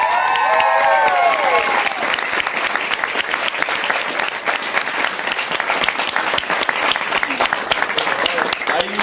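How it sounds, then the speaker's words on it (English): Audience applause and some cheering after a Maori cultural performance by Ngāti Tama at a village in Rotorua, New Zealand, steady dense clapping throughout, with a host's voice briefly heard at the start. "Another huge round of applause for Ngāti Tama!"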